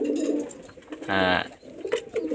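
Pigeons kept for sale give a single throaty coo, close by, amid soft background chatter and bird noise.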